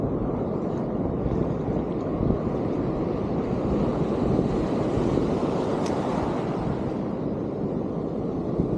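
Strong amihan northeast monsoon wind blowing steadily outdoors, a loud, continuous broadband roar with no letup.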